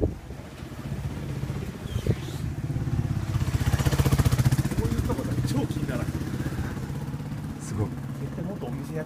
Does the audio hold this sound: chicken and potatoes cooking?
no